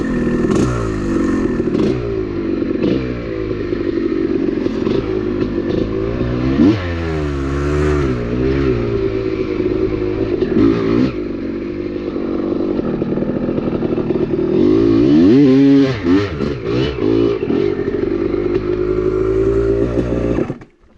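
Honda dirt bike two-stroke engine run without its power valve, revving hard as it rides: loud, close, rising and falling engine wails through repeated accelerations and shifts, with rattling clatter, no talk.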